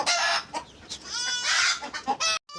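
Egg-laying farm hens cluck loudly and agitatedly up close, a rapid series of harsh squawking calls and cackles in quick bursts.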